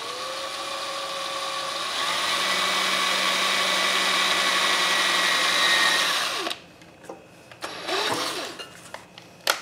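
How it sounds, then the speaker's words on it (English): A high whining power drill runs continuously for several seconds pre-drilling a small hole, then cuts off, followed by a few scattered knocks and brief handling noises. "I'm going to pre-drill this little hole."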